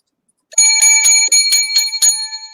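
A bright bell rings about seven times in quick succession, clear and close, each strike leaving a shimmering metallic ring.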